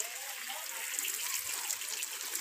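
Water sprays out of a perforated hose used for watering plants, a fine, even hiss with soft patters that runs continuously and fairly close, with no talking.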